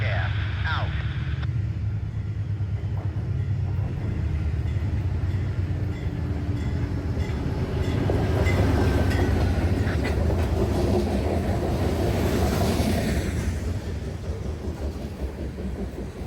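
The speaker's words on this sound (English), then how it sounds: "That was CSX L055, the last freight train that runs into Boston's North Terminal alongside the sand train" CSX L055 freight train rolling along the track into Boston's North Terminal, a steady rumble with faint rail clatter and screech that swells mid-passage and then eases. Voices are heard over it.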